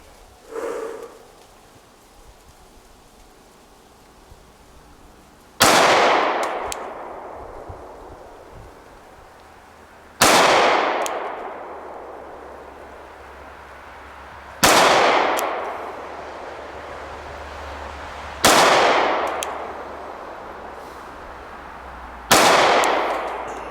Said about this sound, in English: What I'm going to do now is I'm going to step back to 5, and we're going to shoot at the circle.